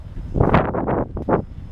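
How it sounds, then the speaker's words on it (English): Gusty wind buffets the microphone in several rumbling bursts, loud and close, with no voices. "it's cold and it's kind of windy"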